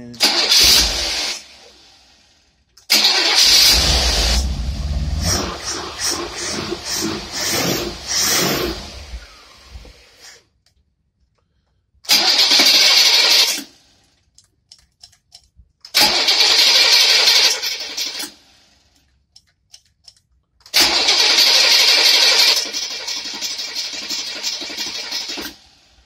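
An engine fitted with a Rochester single-barrel carburetor that is leaking fuel is cranked and started several times, loud bursts of cranking and brief running separated by silent pauses.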